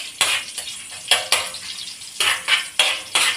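Garlic drops into hot cooking oil in a pan and crackles in sharp repeated bursts, mixed with the scrape and clink of a utensil stirring against the metal pan. The sound is close and loud, with no talking.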